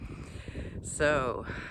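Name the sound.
crows cawing at an estuary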